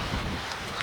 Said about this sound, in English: another windy day